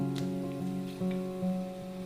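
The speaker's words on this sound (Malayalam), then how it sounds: "ബീഫിൻ്റെ 2 സൈഡും ഫ്രൈ ചെയ്തെടുക്കണം." Beef pieces frying in a pan for Kerala-style beef kondattam, a steady crackling sizzle with faint popping, close and continuous.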